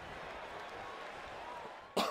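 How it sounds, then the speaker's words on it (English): A single sharp cough bursts out near the end, close and sudden, after a stretch of faint background murmur. "I've got a cough"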